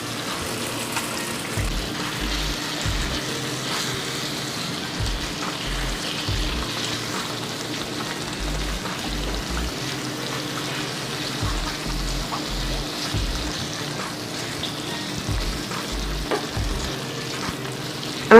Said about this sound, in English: And now I'm going to add the shrimp.